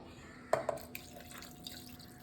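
Water splashing into a pot of mutton in a few quick drips and spatters, close by, then fading to a quiet background.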